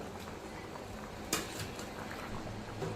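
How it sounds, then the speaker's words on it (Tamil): Quiet bubbling and soft popping of Tamil country chicken curry (nattu kozhi kulambu) simmering in a pot, steady and close, with an occasional small clink. "இப்போ நல்லா கொதிக்குதுங்க"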